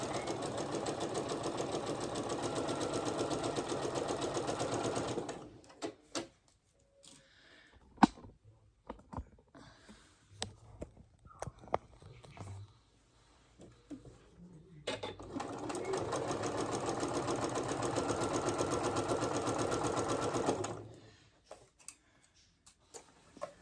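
A sewing machine stitching a garment runs in two steady bursts of about five seconds each. Between them is a quiet pause with scattered clicks and handling noises.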